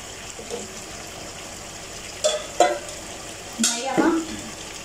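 Hot water poured into a frying pan of chicken kofta curry, a few bursts of hissing sizzle rising over the steady background of cooking.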